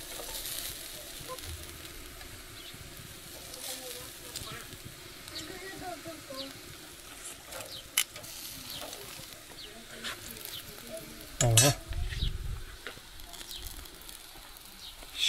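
Meat chops sizzle in a pot over an outdoor village cooking fire, a steady soft frying hiss with occasional stirring clinks, a louder scrape near the end, and a voice faintly in the background.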